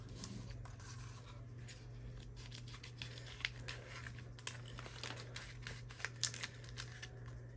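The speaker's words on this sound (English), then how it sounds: "I'm going to just cut this off because I don't need" Scissors snip through a clear acetate sheet for a planner layout, a series of crisp cuts and rustling plastic over a steady low hum, close and fairly quiet.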